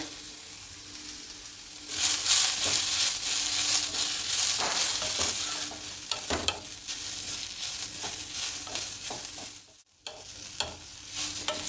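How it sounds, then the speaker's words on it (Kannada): Onion, garlic, coriander and cumin fry in a pan with steady, loud sizzling and repeated stirring scrapes, the sound dropping briefly near the end before resuming. "ಈರುಳ್ಳಿ ಬೆಳ್ಳುಳ್ಳಿ ಧನ್ಯಾ ಜೀರಿಗೆ ಎಲ್ಲನೂ ಚೆನ್ನಾಗಿ ಫ್ರೈ ಆಗಿದೆ"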